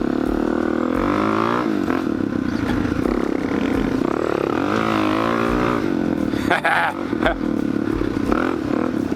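A Kawasaki KLX470 four-stroke motorcycle ridden across desert terrain, its engine droning steadily up close with rising and falling revs and occasional clatter, while a rider's voice talks over it.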